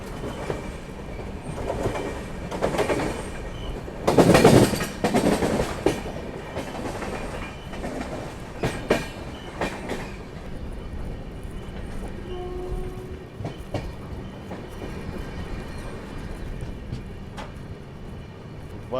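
The 11040 Maharashtra Express pulling into Wardha Junction, with a rumbling rail roar, clattering wheels and brief squeals that swell mid-way and then ease into a steady hum.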